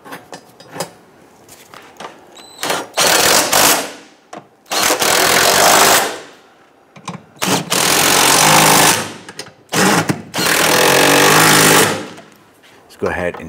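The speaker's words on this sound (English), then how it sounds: "Go ahead and tighten down our transmission mount nuts here." A power tool tightens the transmission mount nuts on a Jeep Grand Cherokee 3.6L V6 in loud, close, rattling bursts, several of them separated by short pauses.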